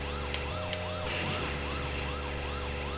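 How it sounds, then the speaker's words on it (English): Police car siren in the Cisco Heat arcade racing game, a continuous rising-and-falling wail repeating evenly over a low engine drone, with no talk. "you've got siren all the time"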